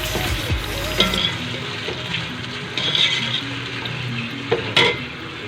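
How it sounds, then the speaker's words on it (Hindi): Chopped tomatoes with ginger-garlic paste frying in a pan for chicken biryani, a steady close sizzle with occasional louder spatters and stirring scrapes; no talking. "थोड़ी देर के लिए भूनेंगे ताकि हमारे टमाटर सॉफ्ट हो जाए।"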